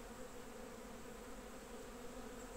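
Honey bees hum in a continuous, even buzz close up at an open brood frame from a young split colony, with no voices and no breaks.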